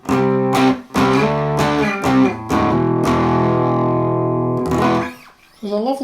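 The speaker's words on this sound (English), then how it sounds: "With the distortion, the overdrive." Electric guitar driven through a DIY Klon clone overdrive pedal, several gritty chord strums in a row, then one long sustained distorted chord that rings out before a short final stab, loud and close.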